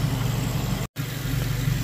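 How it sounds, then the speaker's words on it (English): A Subaru WRX engine with a CVT transmission idles steadily during a transmission oil change, a low continuous rumble that cuts out for a brief moment midway. "Obviously the car's running, so it's gonna be extremely hot."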